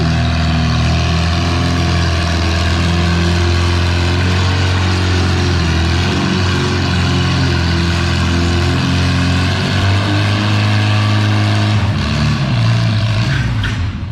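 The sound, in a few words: pulling tractor engine at a tractor pull, Farmall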